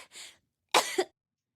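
Two short coughs in Zero Escape: 999, the first softer and the second louder with a quick double burst, close by in otherwise quiet surroundings.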